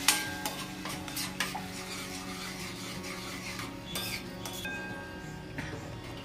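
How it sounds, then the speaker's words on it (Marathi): Soya momo filling being stirred in a pan, with steady scraping and rubbing strokes of a spoon over a faint sizzle, a few sharper knocks, no voices. "असं हलवून घ्यायचं मस्त."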